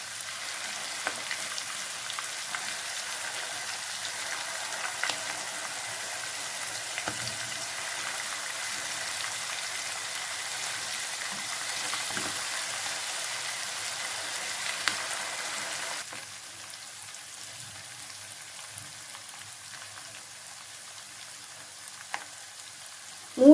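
Chicken leg pieces fry in a pan on a medium flame with a steady oily sizzle and crackle. The sizzle drops a notch partway through and carries on more softly. No one speaks.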